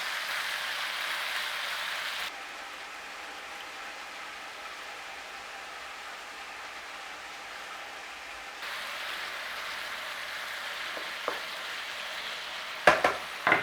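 Meat browning in a pan for a slow-cooker Irish stew, a steady close sizzle that drops quieter for a stretch and then returns, with a few clinks near the end.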